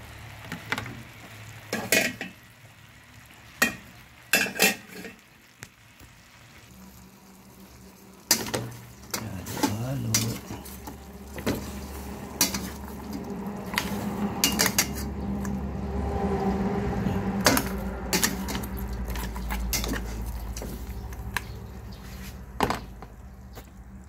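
A spoon stirring chicken liver, gizzard and intestine in a pot for a Maasin, Iloilo kadyos manok ubad dish, with repeated metallic scrapes and clanks against the pot over a low simmering sizzle.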